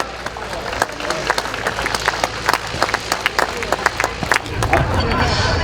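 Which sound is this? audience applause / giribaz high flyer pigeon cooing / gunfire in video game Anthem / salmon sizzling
audience applause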